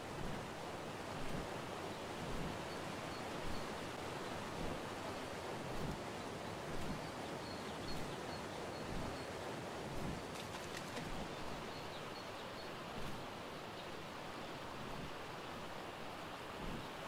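Steady broadband water rush of a waterfall in the video game ARK, a continuous roaring wash that holds an even level throughout with no voices.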